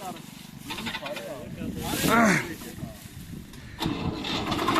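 A tractor engine rumbles and revs nearby in a pea field being cleared, rising and falling, with people talking over it.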